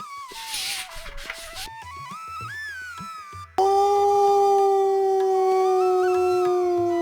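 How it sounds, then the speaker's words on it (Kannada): A wolf howls in a forest in a cartoon story. After some rising, wavering calls comes a loud, sustained howl that holds a steady pitch, clear and close. "ಕಾಡಿನ ನಿಶ್ಶಬ್ದತೆಯನ್ನು ಮುರಿದು ಭಯಾನಕ ಗರ್ಜನೆ ಕೇಳಿಸಿತು. ಅಕ್ಕ, ತೋಳ."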